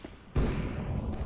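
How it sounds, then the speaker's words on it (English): A flashbang grenade goes off in Counter-Strike: Global Offensive, a sudden loud burst followed by a sustained ringing roar for about a second, then a brief sharp noise at the end. "Flashbang."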